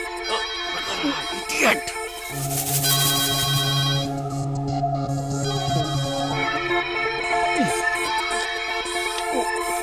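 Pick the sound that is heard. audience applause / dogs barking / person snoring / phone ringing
phone ringing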